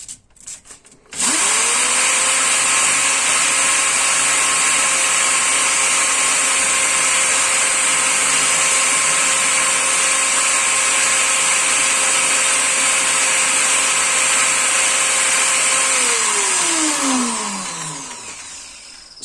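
A power sander whirs up abruptly and runs at a loud, steady pitch for many seconds, then winds down as it's switched off, sanding an engine valve with sandpaper on a pad.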